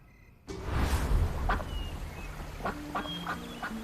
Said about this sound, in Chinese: 这河边还有鸭子呢，我们捉来烤了吧。